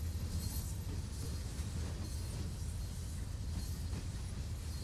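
Train Sim World locomotive on the Northeast Corridor near New York rolling along level track under light power, a steady, continuous low rumble of wheels and motor with faint rail noise, no voices.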